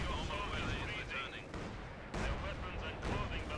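Artillery shells and gunfire roar continuously in a Company of Heroes 2 battle, with repeated booming impacts from two guns layered over dense crackling combat noise, loud and close throughout.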